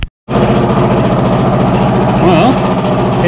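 An old air compressor plugged in and running after long disuse: a loud, steady droning motor with a low pulsing rumble that starts abruptly after a brief silence and continues unbroken.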